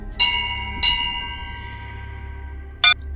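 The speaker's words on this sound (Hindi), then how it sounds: "उत्तराखंड देवभूमि, जहां मंदिरों में घनघनाती घंटियां भी हैं" Temple bells ring out in a Himalayan shrine setting in Uttarakhand, three bright metallic strikes with long shimmering decays, two close together and one after a pause, over a low steady hum.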